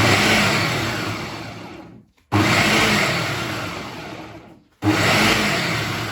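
A food processor chops Adana kebab ingredients in loud, steady whirring bursts. Two pulses stop briefly and start again, close up, with no voices.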